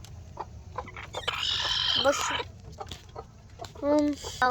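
A brooding hen sitting in a nest without eggs gives a few short, close clucks, with a louder run of clucking near the end over a low background hum.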